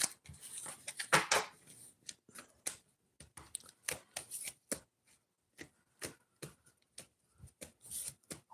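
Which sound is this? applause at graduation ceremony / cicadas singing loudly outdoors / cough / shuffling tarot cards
shuffling tarot cards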